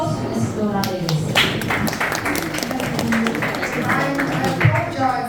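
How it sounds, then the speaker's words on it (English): An audience at an indoor meet-and-greet applauds loudly and continuously, dense clapping filling the room, with some voices mixed in. "Thank you so much, and give a biggest round of applause to Ms. Donna Davis."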